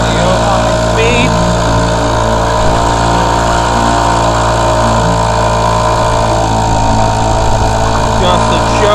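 A vintage 2 horsepower outboard motor, an Evinrude Mate or Johnson Seahorse, runs steadily at close range with a loud, even buzzing drone, while a voice talks over it.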